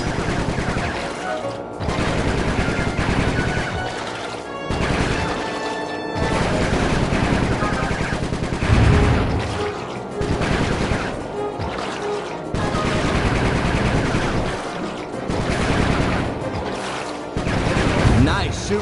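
Gunfire in the Sly 3 video game, with repeated bursts of shots recurring across the scene over a busy game soundtrack and effects, with talk at points.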